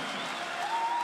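A packed stadium crowd at an esports grand final claps and cheers in a dense, continuous roar that fills the whole moment at high level, with no talking over it.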